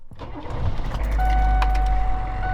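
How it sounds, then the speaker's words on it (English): A 2001 Hummer H1 diesel engine cranks and fires after its glow plugs warm up, catching into a loud, steady low idle up close, with a brief whine over the rumble. "now we can start the car"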